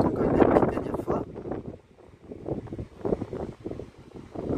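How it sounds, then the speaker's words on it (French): Wind blowing outdoors, buffeting the microphone in uneven gusts beneath someone talking in French. "comme vous l'entendez, il y a du vent."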